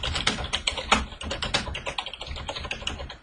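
Rapid, uneven clatter of keys on a computer keyboard as footnote text is typed into a Microsoft Word document, close and steady with no voices over it.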